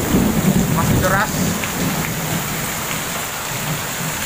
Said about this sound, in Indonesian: Keadaan masih hujan juga, masih deras.